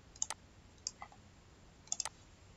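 A few light, crisp key clicks on a computer keyboard come in small irregular bursts, faint and close, against a quiet room.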